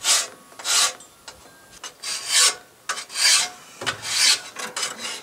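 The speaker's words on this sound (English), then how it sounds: "I have here a nice cross-cut file." A cross-cut hand file rasps across a 1959 GMC exhaust manifold in repeated back-and-forth strokes, close and fairly loud, with short pauses between passes.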